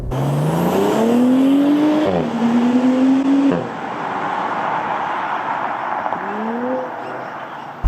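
A powerful turbocharged car engine with an 8-speed automatic revs hard several times, pitch climbing and dropping between shifts, loud and close with a throaty roar.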